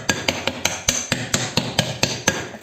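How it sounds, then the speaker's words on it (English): A cast alloy Nordic Ware skull cakelet pan is tapped around a dozen times in quick, even succession, each knock sharp and close with a hollow metallic ring. "I'm just tapping like where the details are, so the teeth, the nose, the forehead"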